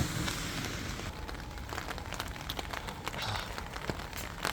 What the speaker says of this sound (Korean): 비 오는 밤은 좋군요.